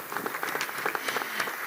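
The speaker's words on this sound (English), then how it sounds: "Happy to join the Minister in an applause for your intervention" Brief applause from an audience at an agricultural policy forum, a dense patter of clapping filling the short moment without voices.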